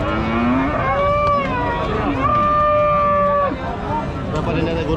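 Cattle at a busy rural livestock market give several long, loud, close moos one after another over a constant murmur of crowd chatter and background voices.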